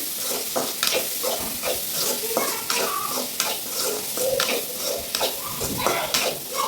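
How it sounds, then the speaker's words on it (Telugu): Grated carrot and capsicum stir-fried in a pan for fried rice, with a steady sizzle and repeated scraping strokes of a spatula at a lively rhythm, close and loud, with no voices. "క్యాప్సికమ్ అలాగో క్యారెట్ తురిమి చేసాం కాబట్టి మనకు తొందరగా వేగిపోతాయి."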